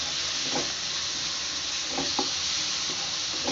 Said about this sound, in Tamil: இப்போ இந்த அளவுக்கு தக்காளியும் வெங்காயம் வெள்ளப்பூடெலாம் வெந்துக்கிட்டு இருக்கு